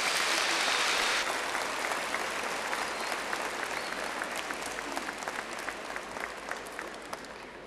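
Audience applause at a preschool children's end-of-year performance, a dense, loud burst of clapping from a crowd that slowly thins and softens over several seconds.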